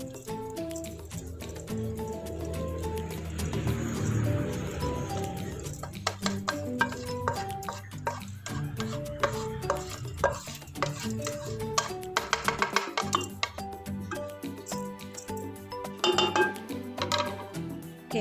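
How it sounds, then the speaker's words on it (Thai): Fried rice is poured back into a pot, with close metallic clinks and scrapes of a utensil against the cookware, a soft grainy sliding sound and a steady run of light taps. "เทกับใส่หม้อ"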